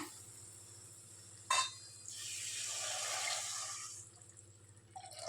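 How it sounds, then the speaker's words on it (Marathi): Water pours into a pan of fried onion and turmeric masala for pithla, half a lota's worth: a sharp splash, then a steady rushing fill for about two seconds that tapers away. "त्याच्यात पाणी ओतूया"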